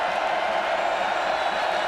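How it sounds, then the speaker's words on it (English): A stadium crowd roars loudly at a Kent State vs. Florida State college football game, a dense, steady wash of noise with no breaks. "Crowd getting loud."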